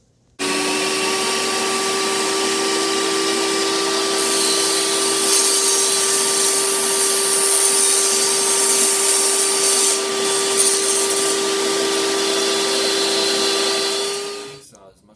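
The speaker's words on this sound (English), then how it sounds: "you need to attach the vacuum to the saw so that sawdust does not get all over the room." A shop vacuum hooked to a scroll or miter saw to catch sawdust while cutting wood produces a loud, steady whining hum that starts abruptly, holds evenly for about fourteen seconds, then winds down.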